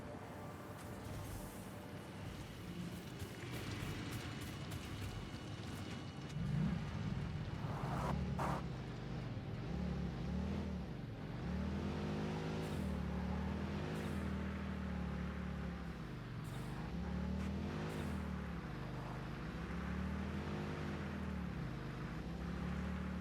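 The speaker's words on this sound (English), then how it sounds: "Alright, well, I'll try driving the car again." Car driven in the video game Satisfactory, a low engine drone that rises and falls in pitch as it accelerates and slows, fairly quiet and continuous, with a few brief clanks early on and no talk.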